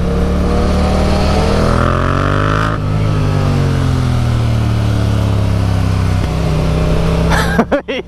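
A Yamaha demo motorcycle, an MT-07 or R1, revs hard in first gear as the clutch pops it up into a wheelie, loud and close, engine pitch climbing, dipping, climbing again, then ending in buffeting wind noise.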